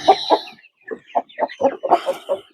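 Colombian Light Brahma hens on a hobby poultry farm clucking close by, with a run of short, choppy bursts, a brief pause, then a quicker, busier string of clucks.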